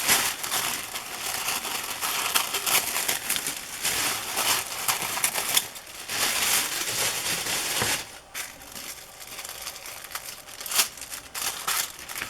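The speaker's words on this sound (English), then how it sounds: "Rather than unfold this whole thing, I'm just going to cut it right there." A folded tissue-paper sewing pattern is cut through with scissors, producing continuous loud rustling and crinkling close by that briefly eases partway through and then carries on, with no voices.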